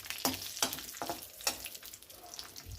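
Dry fruits frying in ghee for bottle gourd halwa, with soft sizzling broken by several sharp scraping stirs of a spoon against the pan at a slow, uneven rhythm.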